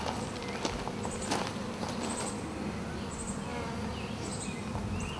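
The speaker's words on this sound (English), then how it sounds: "So here's a hive, not a lot of bees on it" Honey bees buzz around frames lifted from a beehive, a continuous close drone with a few scattered handling clicks and light knocks.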